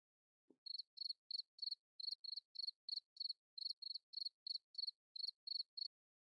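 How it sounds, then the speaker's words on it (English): A cricket chirping sound effect: a regular series of short, sharp, high trills repeating about twice a second, clear and isolated against silence, preceded by a single soft low thump. "Do we have the cricket sound effect for Knowledge?"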